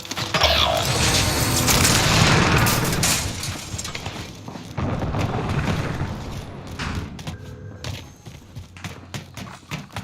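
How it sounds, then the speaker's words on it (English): A frag grenade explodes in Call of Duty Warzone with a loud, dense blast followed by a rumbling tail, then scattered thuds and mechanical clatter as the game action fades. "Throwing frag."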